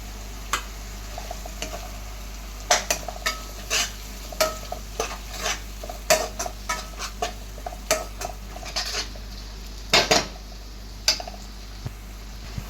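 Ginger garlic paste cooks down with softened tomato and onion in a pan for kadai gravy. A spoon scrapes and taps the pan again and again in an irregular rhythm over a low, steady sizzle, close by, with no voices.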